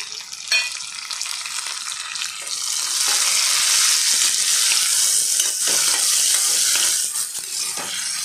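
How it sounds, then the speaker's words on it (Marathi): Sliced tomato dropped into onions frying in a pan for masala rice, the steady loud sizzle swelling and intensifying after a few seconds, then holding strong before easing slightly at the end. "याच्यामध्ये आता मी एक उभा चिरलेला टोमॅटो टाकत आहे"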